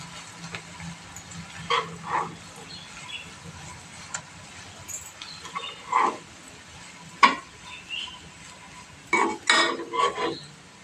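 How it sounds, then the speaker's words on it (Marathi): Spoon scraping and clinking against a pan while soaked poha is stirred and mixed, irregular metallic taps and scrapes at close range with no talk. "आता हे आपण मिक्स करूया."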